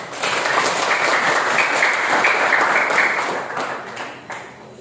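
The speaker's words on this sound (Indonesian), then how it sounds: "mari berikan aplaus kepada kelompok 1" A classroom audience applauds a student group after its presentation during a teaching-practice session, steady clapping from many hands that holds loud and even, then thins and fades toward the end.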